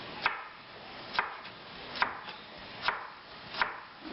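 A knife chops two small carrots into rounds on a cutting board in a kitchen, with five evenly spaced, crisp knocks close by and no voices.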